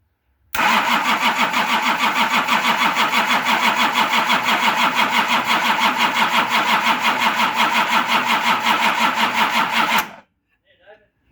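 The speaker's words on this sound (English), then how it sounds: "So I'm going to go and crank this and see if I can get fuel coming to those injectors now." A Nissan LD28 diesel engine cranks on the starter with glow plugs engaged, a loud, even rhythmic churning that runs for about nine seconds without firing, then stops abruptly into near silence.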